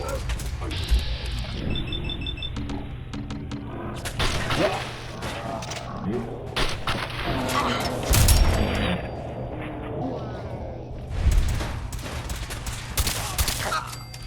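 Fallout 4 combat erupts with bursts of gunfire and heavy booms amid mechanical clatter, loud and close, while voices shout over the fighting.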